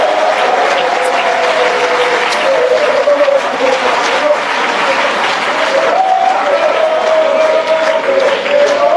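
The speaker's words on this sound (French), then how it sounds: "Il faut l'applaudir pour qu'il vous attende." Loud, sustained applause from a big political rally crowd, thick continuous clapping mixed with cheers and a droning held voice or horn-like tone throughout.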